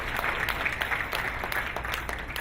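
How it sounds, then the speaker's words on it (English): Audience applause at a welcome event, a steady wash of clapping from a crowd that holds at an even level throughout with no voices on top. "just let us all give a big hand of applause to Shobha."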